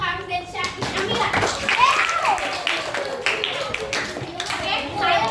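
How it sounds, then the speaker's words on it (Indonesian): Students in a classroom clap for classmates Hafiz and Syakir, a short burst of scattered hand claps mixed with children's chatter and a teacher's voice, close and lively. "Tepuk tangan untuk Hafiz dan Syakir"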